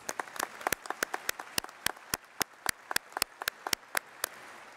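Graduation ceremony audience at a high school clapping in a large hall, with sharp, distinct individual claps standing out above a softer ongoing patter of applause, moderately loud.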